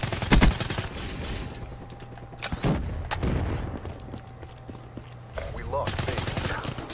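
Gunfire in the online shooter Call of Duty Black Ops 3, several sharp bursts of shots and rapid fire spread across the stretch, with game ambience and a faint tone between volleys.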